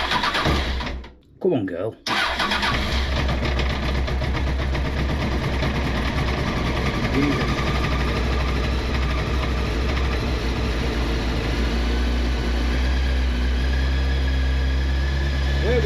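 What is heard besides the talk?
Honda CBR900RR motorcycle engine starting and warming up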